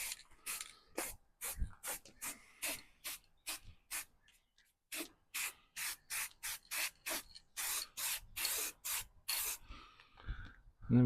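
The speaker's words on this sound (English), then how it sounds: "So let's go for some paint. I'm just going to use a Halford Satin Black." Short repeated bursts of aerosol spray as a narrowboat chimney is painted with Halfords satin black, close and crisp hisses in an uneven rhythm with a few brief pauses.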